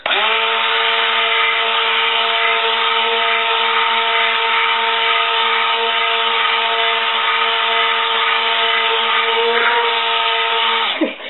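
A stick blender mixing a large pot of lavender soap batter. It gives a loud, close, continuous motor whine with steady pitch for about eleven seconds and stops abruptly at the end.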